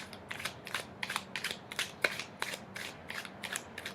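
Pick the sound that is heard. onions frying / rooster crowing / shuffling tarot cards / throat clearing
shuffling tarot cards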